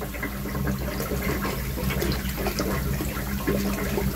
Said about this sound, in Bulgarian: да излиза вода като селска чешма горе-долу